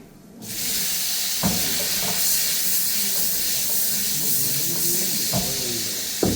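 Cherry tomatoes hitting a hot pan in a Florence pasta class kitchen, a steady loud sizzle and hiss that flares up almost at once and holds, with a few faint clinks of utensils underneath.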